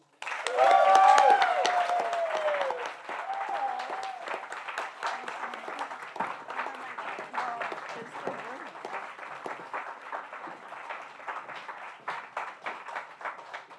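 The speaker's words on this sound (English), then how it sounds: "we need to give our lead co-chair a big round of applause" Gala audience applauding a lead co-chair, a loud burst of clapping at the start that settles into steady sustained applause, with voices mixed through it.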